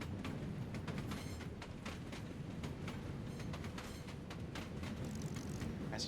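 Steady, close rumble of a passenger train running on rails, heard from inside a car while approaching a transit station, with faint rhythmic clicking and rattles continuing throughout.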